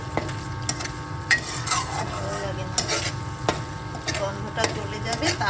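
Turmeric and onions with salt are sautéed in a pan, a steady low sizzle broken by several sharp scrapes and clinks of a spoon stirring against the metal, close and fairly quiet throughout.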